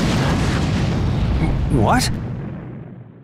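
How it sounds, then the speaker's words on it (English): An explosion in the video game Naruto Shippuden Ultimate Ninja Storm 3 rolls out as a loud, sustained rumbling boom that fades away, with a brief voice speaking over it. "Was that an explosion?"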